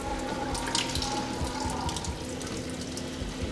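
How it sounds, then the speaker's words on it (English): Water drains from the fresh water tank of a 2021 Winnebago Revel during winterizing, a steady close splashing and trickling flow with a faint hum underneath, continuous throughout. "drain all the water out of the fresh water tank"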